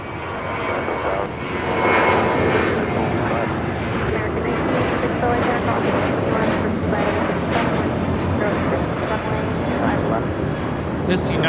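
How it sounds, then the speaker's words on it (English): United Boeing 737-800 airliner taking off from LAX, bound for Phoenix, its steady broadband engine roar sustained and loud throughout, with a faint voice talking underneath. "This United 737-800 is taking off to Phoenix, flight 368"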